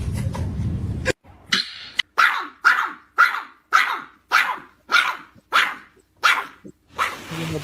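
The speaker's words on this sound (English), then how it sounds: "How big that damn dog is." A large dog barks loudly and close by, about ten evenly spaced sharp barks after a gruff growling opening, with brief silences between each bark.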